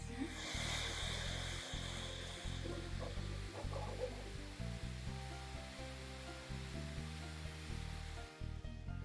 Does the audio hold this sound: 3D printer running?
yes